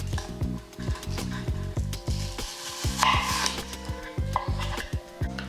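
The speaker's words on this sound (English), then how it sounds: "Let's make very thin slices." A sharp knife cuts an apple into very thin slices on a board, giving a quick run of crisp, evenly spaced chopping knocks up close, with no one talking.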